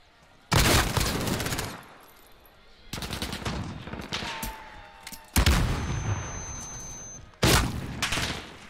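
SMG fire in a Call of Duty 2v2 Gunfight match, with several loud, dense bursts of rapid automatic shots separated by brief quieter gaps, up close and sharp, with no voice over it.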